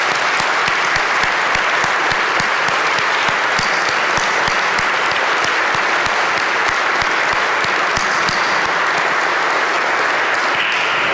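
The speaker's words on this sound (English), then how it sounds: "let's give them a big hand of applause." Sustained audience applause for teachers at a school gathering, a loud continuous patter of many hands clapping that holds steady the whole time.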